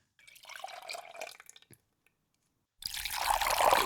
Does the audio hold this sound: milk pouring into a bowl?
yes